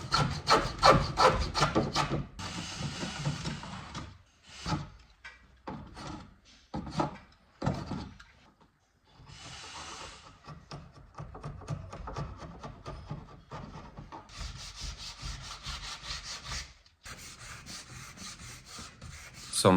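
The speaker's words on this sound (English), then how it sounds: "plane the rough shape into its more definite" Repeated rough scraping strokes of a hand plane shaving wood on a vintage writing desk, loud and close, coming in bursts with short pauses between passes.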